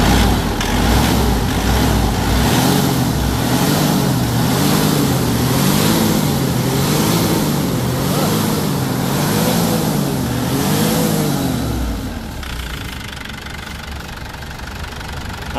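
A Mazda BT-50 pickup's diesel engine runs loud and close with a steady clattering knock and a wavering drone, after its control box was repaired for a start-then-stall fault, easing to a lower idle near the end.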